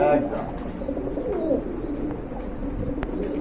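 A male pigeon coos at a pigeon seller's loft, the soft low rolling calls close by and steady, while someone talks over them.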